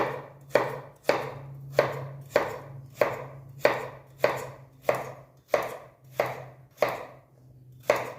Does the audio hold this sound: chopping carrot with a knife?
yes